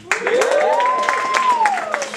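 A comedy club audience cheers and claps, with a rising whoop over a bed of applause for a college stand-up set, lively and close for a couple of seconds.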